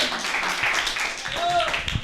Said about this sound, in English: Can we give another round of applause for Kyle